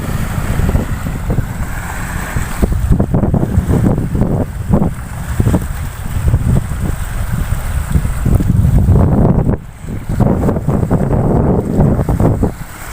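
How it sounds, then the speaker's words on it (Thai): Strong wind gusting across the rocky shore of Lam Takhong reservoir, a loud continuous roar buffeting the microphone for the whole stretch, with no talk. "ลมแรงนะครับ"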